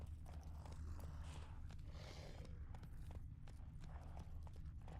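Roach the horse's hooves clip-clop in a steady trot in The Witcher 3: Wild Hunt, with faint creaks over a low ambient hum, quiet and close.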